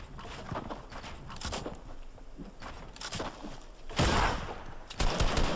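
Bursts of gunfire from the Fortnite battle royale game, a few rapid shots followed by two louder, denser volleys near the end, mixed with game footsteps and clatter at moderate level.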